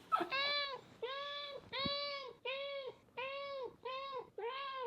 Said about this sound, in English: This is our life every day with this cat.